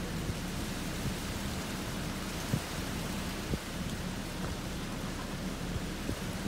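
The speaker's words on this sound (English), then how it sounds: "Brief heavy rain lasting about 3 or 4 minutes." Heavy rain pours down in a brief, dense, steady hiss of big, thick drops in St. Petersburg, Florida, with occasional sharper drops pattering close by; no voices.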